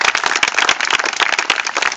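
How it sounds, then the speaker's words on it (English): Audience at a Renaissance festival hypnosis show claps for the volunteers, a dense, steady patter of many hands held at even loudness through the whole stretch. "nice warm round of applause for our volunteers."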